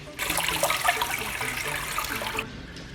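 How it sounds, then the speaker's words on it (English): Water gushes steadily into a 20 gallon reef aquarium tank filled with rock and sand, a close, splashing pour that starts suddenly and stops after a couple of seconds. "now it's time to put in some water"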